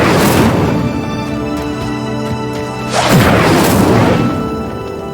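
An Incendio fire spell cast in Hogwarts Legacy bursts out with a loud whooshing roar, then a second fiery blast swells a few seconds later, with crackling and booming layered over a dense magical backdrop.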